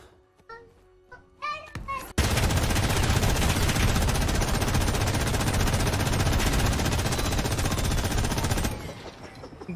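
A light machine gun in Call of Duty: Warzone fires one long, continuous, loud burst lasting several seconds, preceded by brief voices and a few scattered sounds before the firing starts.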